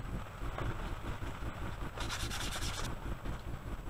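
Rust and grime are scrubbed off the metal of an SKS rifle where moisture sat under the wooden stock, a steady close-up rubbing that turns brighter and harsher for about a second midway.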